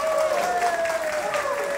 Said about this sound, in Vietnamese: Xin quý vị cho anh một tràng pháo tay trước cho đã.